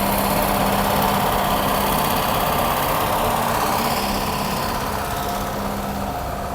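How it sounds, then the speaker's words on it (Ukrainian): Loud, continuous drone of a combine harvester engine running close by, a steady rumbling roar that eases slightly toward the end. "Комбайн їде"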